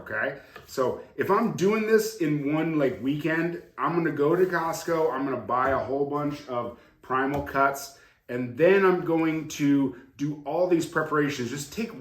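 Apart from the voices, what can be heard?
No distinct noise like a dog, phone or traffic.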